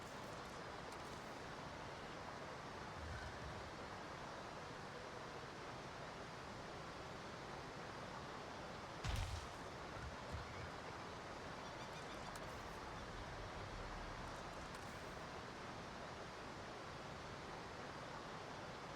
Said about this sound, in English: Just listen to the waterfall.